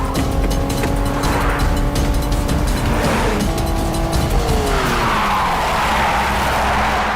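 Cars race in a chase with tires squealing and skidding, the loud engines holding and shifting pitch without a break for several seconds, with no talk.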